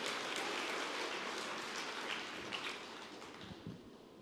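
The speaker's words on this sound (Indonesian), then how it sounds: "berikan tepuk tangan ya pada foto" An audience claps through a sustained round of dense, rain-like applause at a Christian teaching session, starting loud and gradually thinning toward the end.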